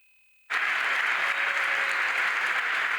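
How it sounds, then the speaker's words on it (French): Hearty crowd applause at the inauguration of the first hydrogen production plant, about 300 people, bursting in abruptly after a quiet start and holding loud and steady to the end. "Des applaudissements nourris pour cette inauguration un peu spéciale"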